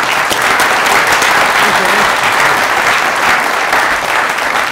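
Sustained audience applause fills a town gathering in Jefferson, Iowa, following a speech: dense, steady clapping from a crowd with some voices mixed in, loud and continuous throughout.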